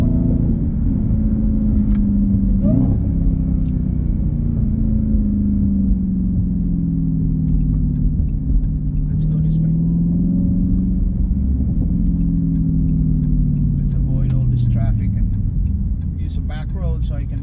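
A Dodge Challenger Hellcat Widebody with a supercharged V8 drives along, its deep engine rumble and supercharger whine rising and falling steadily close up, while someone talks over it.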